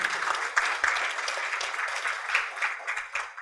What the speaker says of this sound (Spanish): pido, por favor, un aplauso para todos juntos